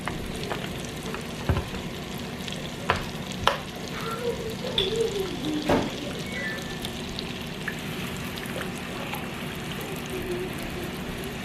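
Heavy cream is poured into a stick of melting butter in a pot and stirred for baked macaroni and cheese, a steady soft sizzle broken by a few sharp spoon clicks and scrapes, with no talking.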